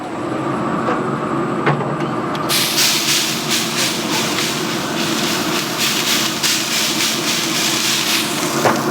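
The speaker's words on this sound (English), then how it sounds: "We're going to go ahead and spritz these up." BBQ short ribs on a grill being spritzed, with a steady broad hiss that starts abruptly partway through and continues as a dense, close spray over a constant background rumble, no talking.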